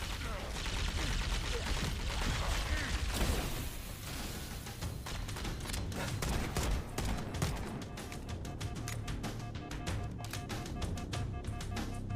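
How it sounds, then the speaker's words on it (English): Plasma pistol firing in the video game Halo Campaign Evolved, a rapid series of sharp energy shots in a steady rhythm, mixed with battle noise and occasional voices. "I like the way the plasma pistol sounds"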